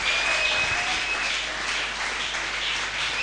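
A church congregation breaks into sustained, even applause that fills the room at steady volume, a dense wash of many hands clapping with no voices heard above it.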